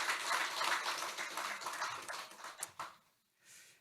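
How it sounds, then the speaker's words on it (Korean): A church congregation gives warm applause after a choir's hymn at a Thanksgiving Sunday service, a dense wash of clapping that fades out near the end. "우리 한번 경외의 박수하겠습니다"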